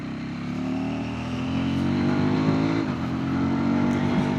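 A KTM 390 Adventure X motorcycle with a 19-inch front wheel rides over sandy mountain roads near Leh, its single-cylinder engine humming steadily up close and climbing in revs midway, with no talking.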